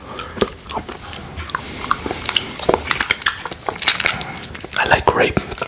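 Close crunching, biting and chewing of a hard butterfly-shaped candy lollipop, with many sharp crackles and snaps in an uneven rhythm.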